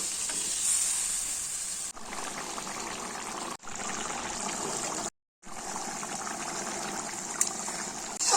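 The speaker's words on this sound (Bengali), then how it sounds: "এইবার জল দিয়ে দিলাম" Water poured into a pan of frying soybean curry, a steady loud sizzling hiss with short dropouts, continuous and close.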